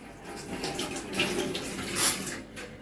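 Cooking oil is poured onto a spiced onion paste mixed with ground coriander, cumin, turmeric, chili powder and salt, giving a soft, close, uneven trickling splash that lasts a few seconds.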